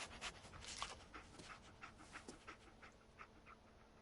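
Dogmeat, the German shepherd companion in the video game Fallout 4, pants in quick rhythmic huffs throughout, steady and fairly close, with faint game ambience beneath and no talk.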